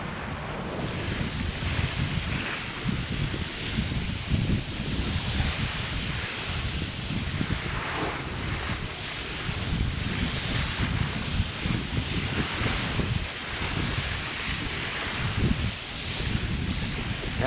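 Small waves wash steadily at a Gulf beach while a strong wind buffets the microphone during wade fishing, a continuous rushing roar with gentle surges throughout and no talking.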